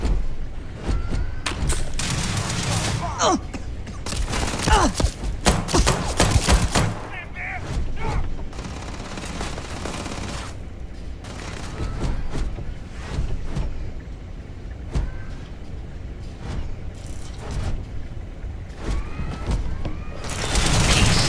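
Dense, sustained gunfire and booming explosions from a Starfield space combat game, loud and continuous, with bursts of rapid fire and shouted voices mixed in.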